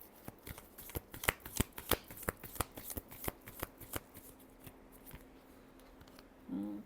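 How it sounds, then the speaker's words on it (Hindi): Tarot cards being shuffled by hand, a run of crisp, rhythmic riffling snaps close by that gradually thins out, with a short bit of speech at the very end. "Last shuffle."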